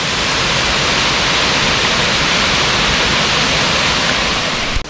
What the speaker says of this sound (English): This waterfall is pretty loud, so I'm trying to speak up without yelling at the camera.